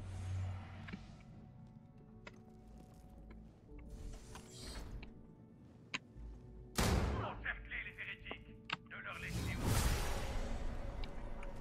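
Gunfire in Starfield aimed at a window: two sharp, loud broadband bursts stand out later on over a murmuring bed of game ambience, with someone speaking in places.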